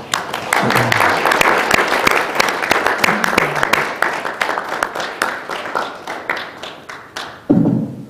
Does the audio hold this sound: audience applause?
yes